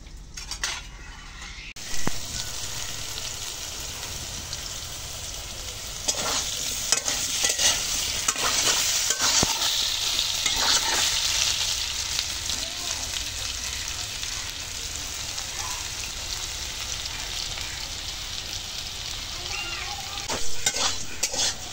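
Potatoes sizzle steadily in a pan while a utensil scrapes and stirs them, with occasional clinks against the metal.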